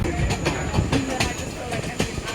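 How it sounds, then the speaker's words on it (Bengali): A train from Ella to Nuwara Eliya in Sri Lanka's hills rumbles steadily along the tracks with rhythmic clacking of wheels over rail joints, loud and close, as if heard from inside a carriage. "পাহাড়ি এলা থেকে তিন ঘন্টা ট্রেন জার্নি করে আমরা যাচ্ছি"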